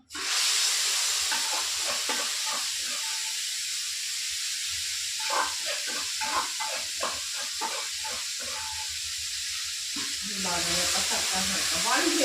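Cumin seeds fry in a pan with a steady close sizzle and hiss, broken by quick stirring scrapes and clicks, while a voice talks quietly now and then.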